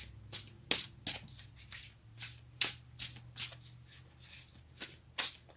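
Tarot cards being shuffled and drawn by hand, a string of crisp riffling bursts and snaps at an uneven rhythm, close and fairly loud, with a faint hum beneath and no talking.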